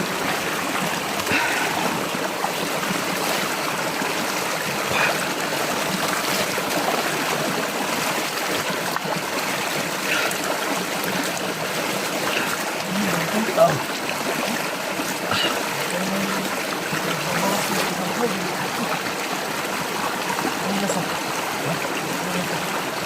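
A mountain stream flows and trickles continuously, a soft, even wash of water heard steadily throughout, with no talk.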